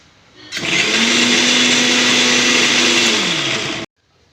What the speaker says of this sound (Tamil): லேசாக ஒன்று ரெண்டுமா சுற்றி அரைக்கணும்